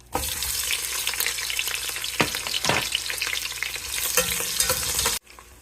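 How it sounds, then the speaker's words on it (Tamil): Onions go into hot oil for vegetable fried rice, bursting into a loud crackling sizzle with a few sharp stirring scrapes, before the sound cuts off abruptly near the end. "இப்போ வந்து எண்ணெய் காஞ்சிடுச்சு செவந்துடுச்சு இப்போ வந்து வெங்காயம் போட்டுடலாம்"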